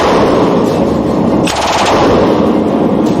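A Negev light machine gun fires a continuous, loud, close burst of rapid automatic shots for a few seconds, with a short gap in the middle.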